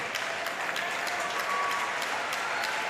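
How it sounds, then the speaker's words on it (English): Spectators at a wheelchair para table tennis semifinal applaud in a steady, sustained wash of clapping lasting a few seconds, with no voices standing out. "You don't applaud when the opponent makes an error on service."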